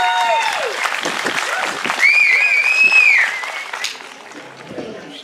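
Crowd applauding outdoors at a Parkinson's awareness event, a burst of clapping with cheers and a high whistle, fading toward the end.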